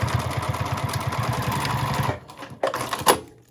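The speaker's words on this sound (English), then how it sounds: "line up the side panels and sew down, and then we'll repeat that on the other side" A sewing machine stitches down side panels on a small ID wallet pouch, whirring in a fast, steady rhythmic run up close, then stopping abruptly, followed by a few short clicks and handling knocks.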